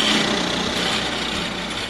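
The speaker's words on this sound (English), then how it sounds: "I drill holes in the center of each one for a screw." A power drill bores holes into the centers of wooden buttons cut for a woodworking project, giving a steady, loud high-pitched whine that runs without pause.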